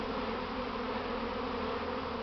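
A huge swarm of Buckfast honey bees buzzing, a dense continuous drone close by and steady throughout with no talk.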